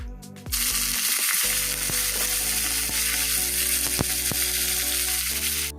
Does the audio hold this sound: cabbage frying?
yes